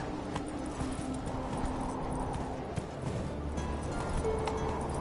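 A horse gallops in the video game The Witcher 3 with steady, fast hoofbeats and a muffled rumble of movement, fairly loud and continuous, with faint game tones in the background.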